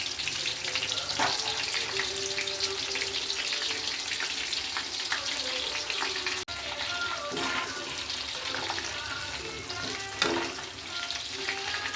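Soya bean kebabs frying in hot oil, a steady close crackling sizzle with fine popping bubbles throughout, no voices.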